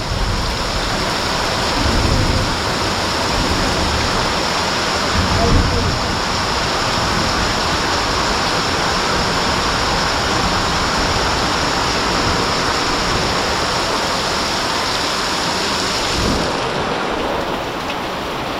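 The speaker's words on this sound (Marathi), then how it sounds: "अजून थोडा वेळ पाऊस पडला तर मासे पण चढतील एवढा पाऊस पडतो आहे" Heavy monsoon downpour in a Konkan village, a dense, steady roar of rain pouring without letup for the whole stretch, loud and close with no clear break.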